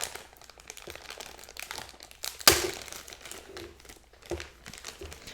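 A plastic bag holding an action figure is opened up close, with a steady run of crinkling and rustling plastic and one sharp, loud crackle partway through.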